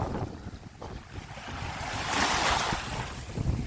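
Black Sea waves at Odesa wash and surge under gusting wind, with buffeting rumble on the microphone and a swelling rush of surf.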